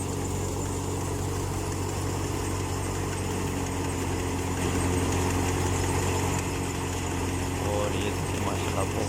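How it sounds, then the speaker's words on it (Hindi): A tractor engine runs during wheat threshing in a village field, giving a loud, steady, continuous rumble that lasts the whole time without a break. "वो ट्रैक्टर आगे से धुआं मार रहा है।"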